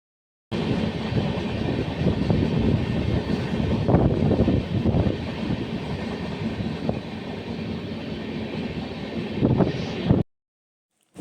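Sampark Kranti Express train rolling on the rails between Kurnool and Ballari, a steady, loud rumble and clatter of wheels that runs unbroken for about ten seconds before cutting off.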